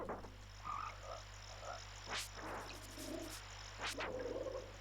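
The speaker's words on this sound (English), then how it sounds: "it's got these croaking sounds" Frogs croak in a swamp in the SNES game Secret of Evermore, a steady chorus of low croaks with a few sharper chirps rising above a constant background hum.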